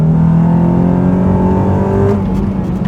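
A Honda Accord Euro CL9 with a K24 2.4-litre four-cylinder VTEC engine revs loudly and close, holding a steady, buzzy drone whose pitch edges upward before easing off near the end.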